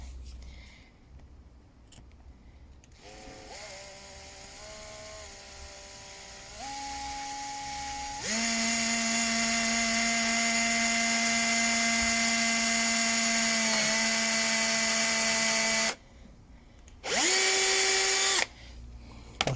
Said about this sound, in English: Then we'll just drill the two holes.